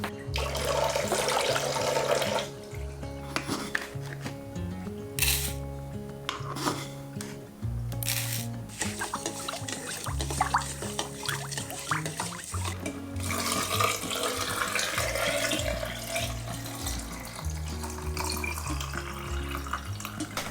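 Tap water runs into a fermentation container being filled for a brine with sea salt, a continuous splashing gush that shifts in pitch as the vessel fills, close by, with background music playing over it.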